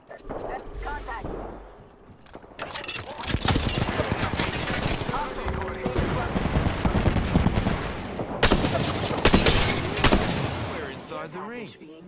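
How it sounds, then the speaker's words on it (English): Gunfire from the battle royale game Apex Legends, dense bursts of rapid shots and impacts that run almost continuously for several seconds, loud and close, with short quieter gaps and game voice lines mixed in. "Shots fired."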